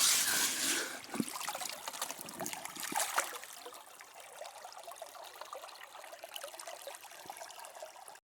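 Water carries gravel through a cheap homemade river sluice for gold, giving a steady close trickle and rush with small rattling bits, louder at the start and then settling.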